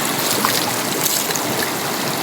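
Cold spring water flows steadily straight from a village source, a continuous broadband rushing and splashing close by with no pauses or voices.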